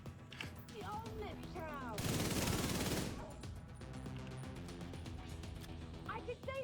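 Sustained burst of video game gunfire, loud and dense for about a second in the middle of the clip, set among game sound effects and music with a person talking over it.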